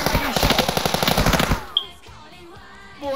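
Rapid automatic gunfire in the multiplayer game Sub Rosa, a loud, dense burst of shots for about a second and a half, then a single crack and quieter shuffling afterward.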